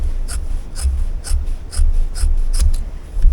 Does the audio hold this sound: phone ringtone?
no